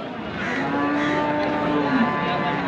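Cows and calves mixing at a busy cattle market in Parbatipur, Dinajpur, with a steady crowded din, low mooing tones, and people talking throughout.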